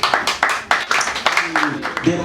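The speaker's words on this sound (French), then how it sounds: "Sous vos acclamations, s'il vous plaît." Audience applause at a Cameroonian group's anniversary celebration, a few scattered claps rising into brief clapping, loud and close, with voices over it.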